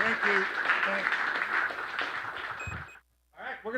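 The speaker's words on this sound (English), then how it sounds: "give a big round of applause to our coach, our offensive line coach, John Stock" A crowd claps for an offensive line coach at a high school touchdown club coaches show, warm sustained applause with a voice running over it before it cuts off abruptly, then a brief return of sound.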